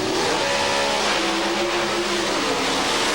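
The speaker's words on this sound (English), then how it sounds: "finalist Tony Christian brought the Volante and Earl Pontiac Firebird to the starting line to race against Bob Glidden in the Pro Stock Final" Pontiac Firebird Pro Stock drag car at the starting line of a 1987 NHRA national event final: a loud, continuous engine roar with rising revs and pitch shifts, no speech.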